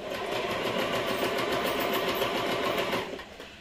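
A Usha Janome Allure DLX sewing machine runs a long stitch with a steady, fast mechanical whirring and needle chatter, loud and close for about three seconds before stopping.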